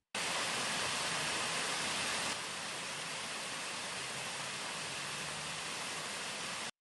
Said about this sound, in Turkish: belediye ekipleri gider kapağını açarak atık suyun Karaca Deresi'ne boşaltılmasını sağlıyor